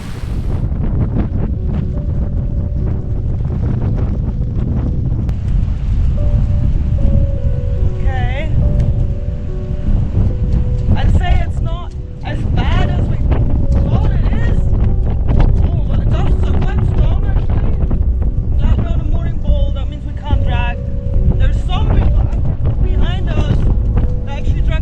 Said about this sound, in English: Whenever the gust comes and it yanks and pulls